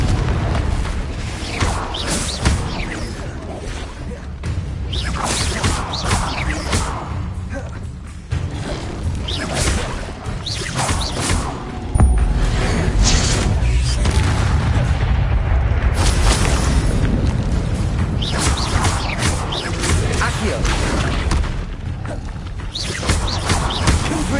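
In the Hogwarts Legacy video game, Confringo fire spells and the battle around them give repeated booming blasts and crashing thuds over a dense, busy wash of noise, with brief voice lines mixed in.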